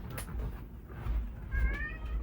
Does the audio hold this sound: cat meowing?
yes